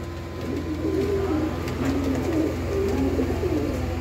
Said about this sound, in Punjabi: ਦੇਖੋ ਕਬੂਤਰ ਦੋਸਤੋ